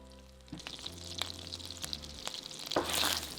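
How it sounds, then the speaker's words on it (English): Minced onion, garlic and ginger hit a hot pan of butter and oil over medium-high heat for a butter chicken curry, giving a steady close sizzle that swells into a louder crackling fry near the end. "Add the minced onion and garlic to the pan along with 2 teaspoons of minced ginger"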